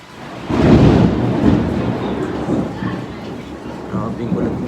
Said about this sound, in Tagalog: Grabing ulan ngayon guys.